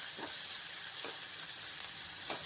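Vegetables and ginger sauté in a pan for veggie egg paniyaram, giving a steady bright sizzle with soft stirring scrapes at intervals, close and moderately quiet.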